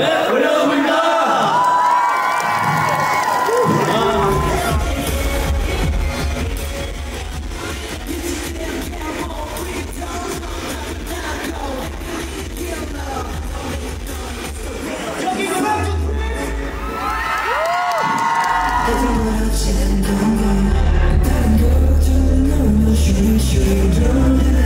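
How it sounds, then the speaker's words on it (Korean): A large crowd cheers, whoops and claps at a live stage event, loud and sustained throughout, swelling near the end, with voices talking over the din. "박수 한번 드리겠습니다"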